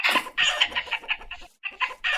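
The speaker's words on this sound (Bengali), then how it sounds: "চলো চলো আমরা মুরগি ধরে দেখাবো। এই মুরগি কোথায় যাচ্ছিস, পালা।" A hen clucks in the Meena cartoon video game: a short, loud burst of rapid, squawking clucks, close and alone, with a brief pause before a final flurry.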